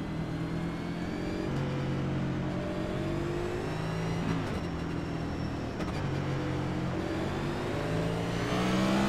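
Race cars on a short track, twelve in the field, their engines droning and revving steadily throughout, a dense layered rumble that swells slightly near the end, with no talk.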